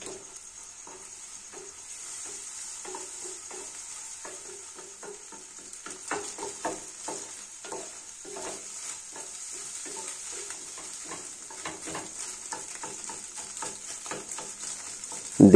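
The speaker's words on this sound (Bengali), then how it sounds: "গরম তেলে 3টি ফেটানো ডিম দেব। এই ডিমটা নাড়াচাড়া করে আমরা ডিম ভুজিয়া বানিয়ে নেব।" Beaten eggs, three of them, stirred and scrambled in hot oil to a soft texture. Quiet sizzling runs throughout with a steady run of light utensil scrapes and taps, growing a little busier toward the end.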